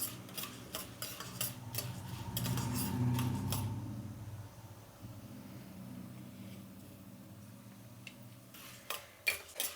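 Chana dal and urad dal are fried in a pan with steady stirring: a run of quick ladle scrapes and taps comes first, then a soft sizzling stretch, then a few more scattered clinks near the end. Quiet and close.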